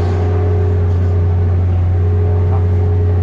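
Engine of a Thai-built Pattanakit PAT 3508 sugarcane harvester running with a loud, steady droning rumble and strong low hum, heard up close without pause.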